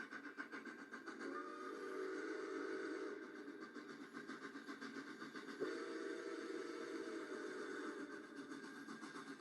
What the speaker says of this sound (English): that is the sound of a train